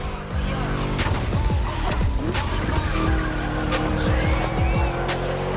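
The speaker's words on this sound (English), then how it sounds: "Just listen to that V8, like a chunky, down-tuned guitar riff." V8 car in The Crew Motor Fest racing game, a loud continuous engine roar with rising revs and gear shifts, tires squealing under it.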